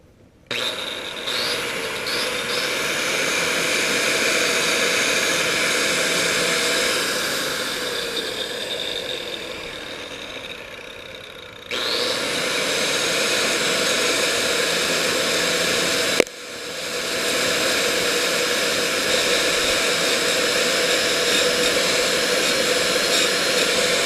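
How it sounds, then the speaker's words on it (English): Angle grinder grinding old mortar off bricks for a patio corner repair, a loud, harsh, continuous hiss and whine that cuts out briefly twice before resuming. "I'm just going to remove some of the old mortar here using the angle grinder here."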